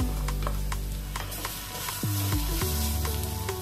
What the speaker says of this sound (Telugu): క్యారెట్ కూడా కొంచెం ఫ్రై అవనియాలి.